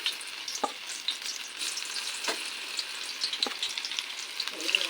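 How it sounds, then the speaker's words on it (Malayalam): Mixed soya chunks fry in hot oil in a pan for a masala curry: a steady, moderate hiss with a few brief stirring scrapes. "ഫ്രൈ ചെയ്തെടുക്കുക."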